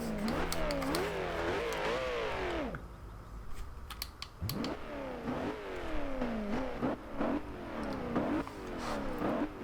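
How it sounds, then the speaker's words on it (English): Koenigsegg Agera, a 2011 model, in the racing game Forza Horizon 2: the engine revs up through gears with rising and falling pitch, cuts out briefly, then roars back with repeated climbing revs, loud and close. "this car sounds awesome"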